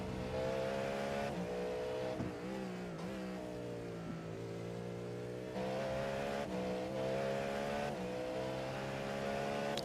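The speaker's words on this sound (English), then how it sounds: "That Cadillac LMDH. What a sound this machine has." Cadillac LMDH prototype race car in a racing video game at Road America, its engine howling loud and close, pitch climbing through gears with brief dips at upshifts and a sustained flat-out tone, no talk.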